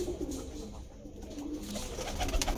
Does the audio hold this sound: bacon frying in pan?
no